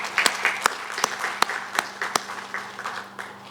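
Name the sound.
applause at award ceremony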